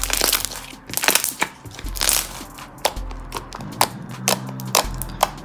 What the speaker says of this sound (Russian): Очень классно хрустит.